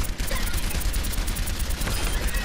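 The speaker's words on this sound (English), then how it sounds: "Now, activate your tactical visor and destroy the training bots." Rapid, sustained gunfire from Soldier 76's heavy pulse rifle shooting training bots in Overwatch, a loud continuous burst of shots with dense impacts filling the whole stretch.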